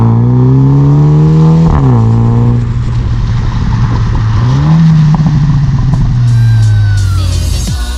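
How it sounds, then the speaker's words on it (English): A MINI JCW engine starts with a loud rising whir, then settles into a steady idle, with a couple of sharp revs blipping up and dropping back; the car is close and loud throughout, with no voices. "let's get this car started up and take it for a spin"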